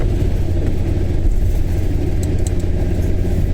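A large bus drives close behind a car on the M9 motorway near Falkirk, Scotland, heard as a steady, loud low engine drone and road rumble from inside the car, with no speech.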